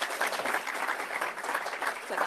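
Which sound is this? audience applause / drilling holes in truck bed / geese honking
audience applause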